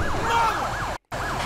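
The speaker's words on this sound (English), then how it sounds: "I kind of like the horn of this one, though." A fire truck siren in GTA 5 wails loud and close, sweeping up and down in a steady repeating cycle, cut off by a brief dropout before resuming.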